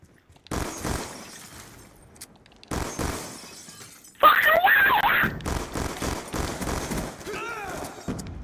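Gunfire from a player's weapon in a video game, a loud dense burst with shattering impacts erupting midway, amid other game noise and someone talking over it.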